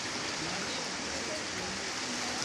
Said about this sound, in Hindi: नदी में बहुत ज़्यादा पानी है, हम लोग नदी पार करके स्कूल जा रहे हैं।